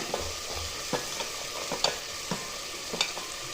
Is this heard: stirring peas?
yes